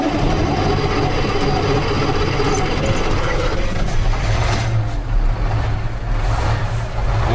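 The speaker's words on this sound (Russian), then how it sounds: "Сейчас отгоним Урал на мойку" Ural truck engine running as it is driven to the wash, a steady loud low rumble with rattling mechanical noise throughout, close by and without speech.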